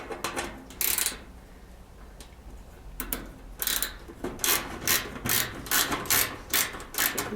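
A quarter-inch nut driver backs screws out of the rear panel of a clothes dryer, with faint close ratcheting clicks and scraping turns coming in irregular bursts that speed into a quick rhythm near the end.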